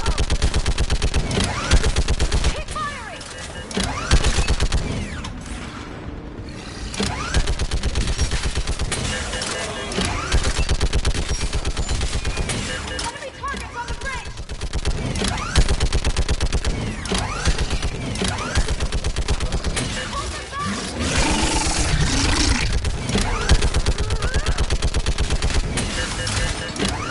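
A Mass Effect 3 firefight rages on without pause, with continuous loud gunfire, mechanical clanks and battle noise, and shouted voices sometimes rising through the din.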